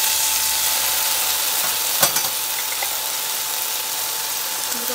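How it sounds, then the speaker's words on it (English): Peppers, onions and minced garlic frying in a pan: a steady, loud, broadband sizzle throughout, with one brief knock of stirring near the middle. "We're going to cook this till these soften up a little bit with the peppers and the onions."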